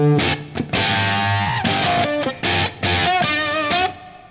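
Electric guitar played through an Octavia octave fuzz pedal, a run of loud, buzzy distorted notes and short phrases with brief gaps between them, heard alone.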